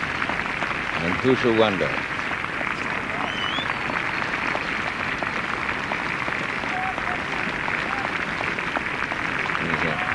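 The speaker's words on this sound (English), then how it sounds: "Against tremendous cheers have come up." A golf gallery at The Open, St Andrews, 1970, breaks into steady sustained applause and cheering, a broad crowd wash running throughout while a commentator speaks briefly near the start.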